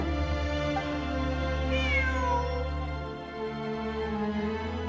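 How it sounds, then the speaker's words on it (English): A cat meows in the video game Genshin Impact, a drawn-out, wavering cry heard over a steady, droning musical backdrop at moderate volume, with no talking. "I'm not hearing things. It really is a cat."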